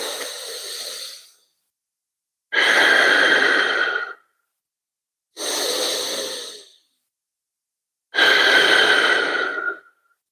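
Deep breathing during a relaxation exercise, four long slow breaths separated by silent pauses, close and loud with a breathy hiss, no talk.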